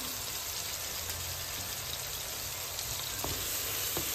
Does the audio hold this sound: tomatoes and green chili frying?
yes